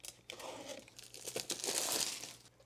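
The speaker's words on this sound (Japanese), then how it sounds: "では開封していきたいと思います" Product packaging for a MATECH Sonicharge 130W charger is torn and crinkled open up close, with rustling bursts of paper and plastic building louder toward the end.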